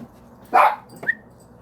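A dog gives one sharp, loud close bark followed by a shorter yip about half a second later, over a quiet indoor background.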